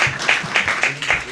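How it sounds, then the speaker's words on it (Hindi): An audience at a Mahashivratri festival gathering claps to welcome a guest, a brief burst of applause with distinct rhythmic pulses from several hands, fairly close and lively. "भाई साहब का फिर से एक बार बहुत जोरदार तालियों से स्वागत करेंगे"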